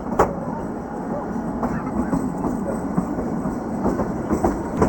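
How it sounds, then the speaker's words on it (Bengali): The Kalka-Shimla toy train pulls away from Kumarhatti Dagshai station, wheels clattering steadily on the narrow-gauge rails with a continuous rolling rumble and occasional sharp clacks, a voice faintly audible underneath. "এই ছেড়ে দিল আমাদের টয় ট্রেনের সেকেন্ড স্টপ কুমারহাটি ডাকসাই থেকে"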